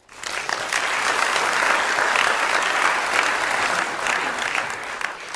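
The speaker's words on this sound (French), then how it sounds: "on peut les applaudir" Festival audience applauding sponsors at a theatre event, a steady wash of many hands clapping that swells quickly and holds evenly throughout, fairly close and with no talk over it.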